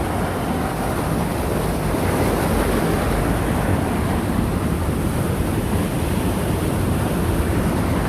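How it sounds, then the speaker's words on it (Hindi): Heavy water pours over the weir of the Upper Ganga Canal at Sanota near Bulandshahr, a steady, loud, broadband roar that holds constant throughout, with no voices. "पानी बहुत ज़्यादा आ रहा है"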